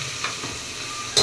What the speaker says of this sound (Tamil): நல்லா பொன்னிறமாக வதக்கணுமா, அதை வதக்குறேன்.